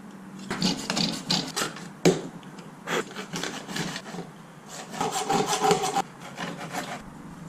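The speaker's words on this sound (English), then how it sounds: "the first option for cutting this pipe is to just use a simple hand saw" A simple hand saw cuts through a pipe for a cat fountain build, giving repeated rasping back-and-forth strokes in an uneven rhythm, close and fairly loud, with no talking.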